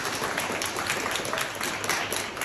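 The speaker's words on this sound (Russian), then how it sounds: "Ваши бурные аплодисменты" Dense, steady audience applause fills a hall after a guest introduces himself at a live talk, a continuous wash of many hands at an even level with no voices standing out.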